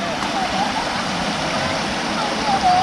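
A small water feature behind a village building in Nan Province keeps up a steady, soft rush of flowing water, with faint voices in the background.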